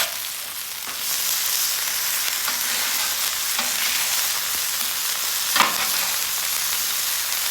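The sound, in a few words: burgers and onions sizzling on a griddle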